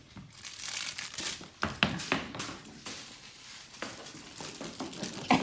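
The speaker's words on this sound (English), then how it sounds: "It's got a squeaker in it and crinkly paper." Crinkly paper inside a plush dog toy that also holds a squeaker, crackling and rustling in bursts of irregular crinkles with a few sharper taps, fairly close and moderately loud, as a puppy with a splinted leg plays with it.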